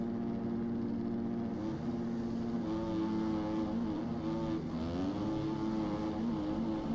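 A 250 two-stroke dirt bike engine in the MX Bikes racing game drones steadily and loudly, its pitch climbing and falling through gear changes with no talk over it.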